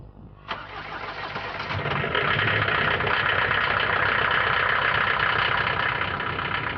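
A Vauxhall Frontera Sport diesel engine cranks and fires at once, then settles into a loud, steady clattering idle close by, with no talking.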